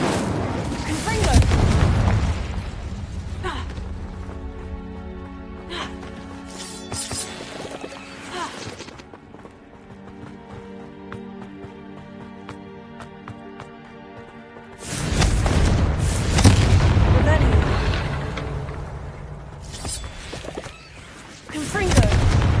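Blasting-spell explosions in Hogwarts Legacy, loud booming bursts at the start and again in the later stretch, with a quieter musical, tonal passage between them and a voice talking over the action.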